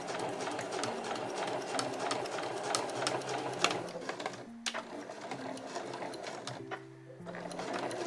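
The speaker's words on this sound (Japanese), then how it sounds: "必ず自分の手前が平らになるようにして縫っていきましょう。" A domestic sewing machine runs in steady stitching bursts, pausing and restarting, as it sews a small curved zipper pouch from Marimekko fabric scraps, close and fairly quiet with no talking.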